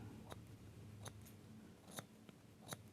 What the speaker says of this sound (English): Just using the tips of my scissors.